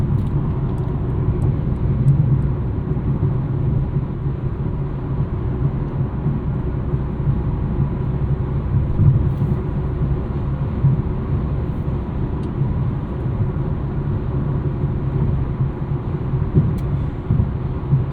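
Inside a 2024 Mercedes GLA 35 AMG on 20-inch wheels cruising a highway, a constant deep road rumble and tire drone fill the cabin, steady and unbroken for the whole stretch with no talk.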